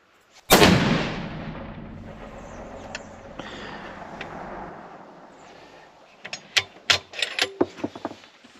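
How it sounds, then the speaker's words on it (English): A custom .338 Lapua rifle fires a single loud, sharp shot of Federal Premium 250 grain Sierra MatchKing ammunition, its boom decaying over several seconds, followed by a run of close metallic clicks from bolt handling. "Alrighty guys, first shot's coming up."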